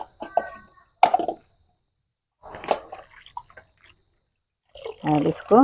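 Bitter gourd being washed by hand in salted water, with brief splashing and sloshing between stretches of someone talking close by.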